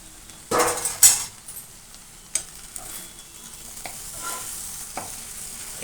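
Okra curry stirred in a pan, with a couple of loud scraping clatters early on, then softer, scattered stirring knocks over a faint low simmer.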